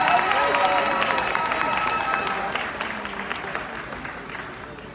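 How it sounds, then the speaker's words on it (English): Loud, dense applause from a large audience at a middle school graduation ceremony, sustained and gradually easing off over several seconds. "Let's give them a round of applause."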